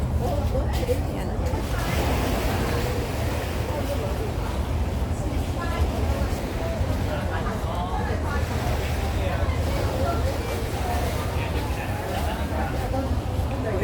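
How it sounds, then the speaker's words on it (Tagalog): Ocean waves wash continuously at night along the Ma Wan shore in Hong Kong, a dense broadband rush with wind, and voices chatter faintly under it. "Enjoy din sa pakikinig sa alon."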